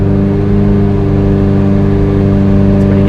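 A 2G Mitsubishi Eclipse engine hums loud and steady under throttle during tuning, its layered drone holding an even pitch throughout with no talk over it.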